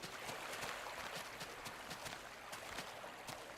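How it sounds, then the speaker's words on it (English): Minecraft's underwater effect gives a muffled, murky wash of water noise, a dense, low rumbling hiss that holds steady throughout with faint soft thumps inside it. "I also am excited to mention here this really cool water effect."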